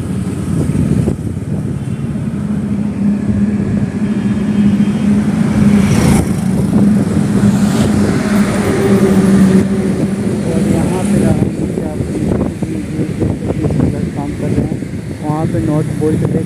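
A bus crossing a long road bridge in India, billed as Asia's longest, gives a steady engine rumble and traffic drone up close, with the deck noise running continuously while someone talks over it.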